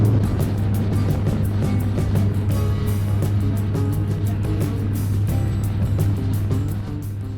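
A Harley-Davidson Heritage motorcycle rides through a tunnel with a steady, loud low engine drone and a rushing, echoing wash of wind and road noise, close and continuous, easing slightly near the end.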